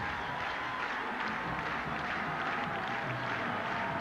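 Record stadium crowd of Clemson Tiger fans, over 84,000 strong, at a 1988 college football game against Florida State, a dense continuous roar with faint applause textures, distant and steady throughout.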